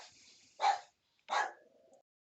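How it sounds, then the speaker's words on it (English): Two short dog barks a little apart, fairly distant and faint, with a trailing whine after the second, in a quiet room with no talk. "Dogs are going nuts."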